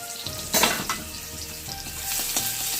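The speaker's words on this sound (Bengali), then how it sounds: "তেলটা গরম হয়ে গেলো তো পেঁয়াজগুলো এখানে দিয়ে দেওয়া হলো" Onions sizzle steadily in hot oil for a fish curry with bata fish, a bright close frying hiss with a few louder spatters and stirring scrapes early on, and no one speaking.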